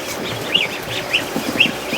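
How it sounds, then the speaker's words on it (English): Ducks and ducklings kept alongside a rescued gosling give soft, high chirps and short calls, scattered and fairly close over a quiet outdoor background. "that's the ducks"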